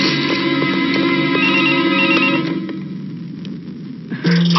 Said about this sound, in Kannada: ಫೋನ್ ಬಂದಿರೋದು ನನಗಲ್ಲ, ನಿನಗೆ.